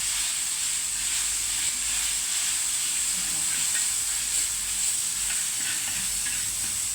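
Crushed garlic frying in a pan over a low gas flame is stirred quickly, producing a loud, continuous bright hiss that runs unbroken throughout.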